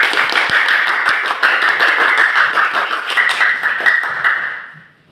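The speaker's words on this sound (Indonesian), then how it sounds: "Tepuk tangan untuk kita semua." A class of students claps together, a dense, fast patter of hands held loud and close for several seconds before quickly fading out.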